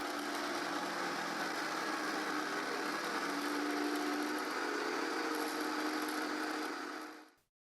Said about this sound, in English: I put the circle cutting jig on the saw, and I make a straight cut until the clamp stops the sled.